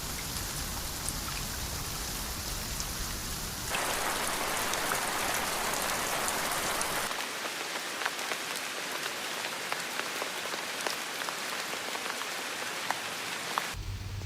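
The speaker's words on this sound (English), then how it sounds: "It is raining cats and dogs." Heavy rain pours steadily on a farm, a dense, continuous hiss of drops hitting surfaces that swells louder for a few seconds, then settles into a sharper patter with distinct nearby drips.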